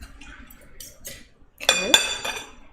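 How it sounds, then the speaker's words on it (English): A knife and cutlery clink against a plate while shrimp is cut, with a few light taps and then a couple of sharper metallic clinks near the end, close and moderately loud. "now I'll take one of those knives and let's try this shrimp."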